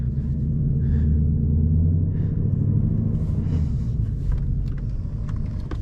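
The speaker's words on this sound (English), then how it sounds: "I even got to rev the engine, and oh my god, this whole car was shaking" A 2024 Ford Mustang GT's V8 idling and revving, a loud, deep throbbing rumble close up that swells and holds steady throughout.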